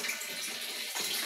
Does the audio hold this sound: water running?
yes